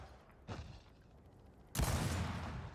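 Gunfire in Gears of War 4 multiplayer, a sharp shot followed by a louder, sustained burst of heavy firing that ends abruptly, heard alone and fairly close.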